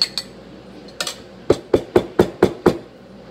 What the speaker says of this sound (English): you wanna pack down the jars so you can get as much tomatoes in the jar as possible